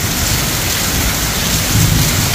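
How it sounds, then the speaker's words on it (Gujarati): Heavy village rain pours down with wind while a low thunder rumble swells near the end, the dense downpour loud and close throughout, with no speech. "ગાજ તો અડે રાખી નાખે હા કડાકા થાય છે"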